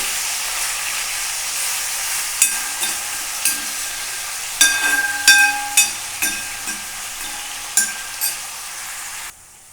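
Green chillies fry in a pan for an aloo fry, a steady sizzle and hiss with a string of sharp clinks and scrapes as a spoon stirs, ending abruptly.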